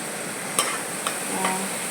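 A spoon scrapes and stirs through tomatoes sizzling in a pan, with a few soft clinks over a steady frying hiss; no one speaks.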